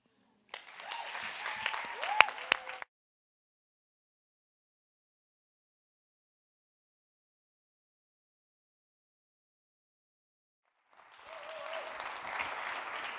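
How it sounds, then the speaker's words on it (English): Audience applauding storytellers at an evening storytelling session, two bursts of steady clapping, the first about two seconds long, then a long silence before a second round begins near the end. "another warm round of applause for all of our storytellers"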